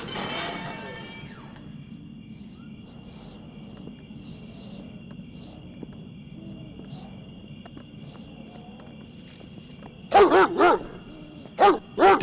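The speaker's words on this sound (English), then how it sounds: "Nice dog." A dog barks in a few loud, close bursts near the end, after a stretch of low background hum, insect-like chirping and quiet speech from people nearby.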